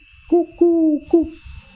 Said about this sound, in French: le chant de la tourterelle turque